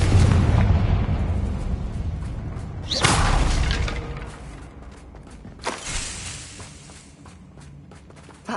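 A Confringo fire spell explodes in Hogwarts Legacy, two loud booming blasts with rumbling tails rising out of an already heavy low roar of combat.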